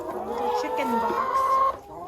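Hens cluck in a crate filled with sand for dust bathing, giving close, warbling calls that rise and fall for about two seconds. A person talks softly in the background.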